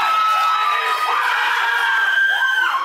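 A pageant audience greets candidate number seven, an 18-year-old, with sustained loud cheering, high-pitched shouts and whoops over steady applause, filling the room continuously without speech.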